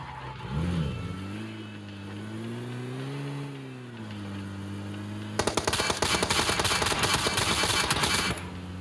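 In PUBG Mobile, a vehicle's engine hums and shifts pitch as it drives, then rapid bursts of automatic gunfire break out and crackle loudly for several seconds alongside the engine.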